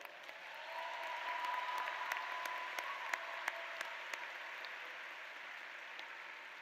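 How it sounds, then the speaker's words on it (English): Graduation audience at a high school ceremony applauding, a broad even wash of many hands clapping with a few sharper individual claps standing out, sustained throughout. "Let's give those groups a round of applause"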